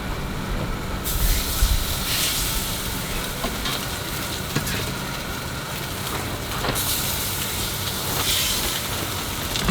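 Salmon fillets sizzle in smoking-hot ghee in a cast iron pan, a steady close-up hiss and crackle with no talk, swelling louder after the first second and holding an even, continuous sputter throughout.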